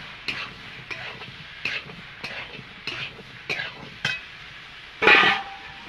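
Green jackfruit being stir-fried with spices in a pan for a jackfruit and prawn dish, heard as regular spatula scrapes and soft sizzling bursts about every half second, ending in one louder, longer scrape.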